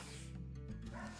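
A short, muffled dog bark or yelp at moderate distance, followed by a sharp click at the very end.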